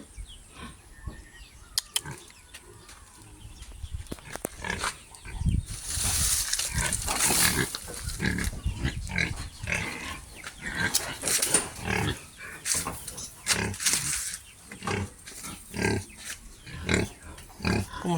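A native boar loose from its pen grunts and snorts in repeated rough bursts, loud and close, with brief pauses between calls and no talking.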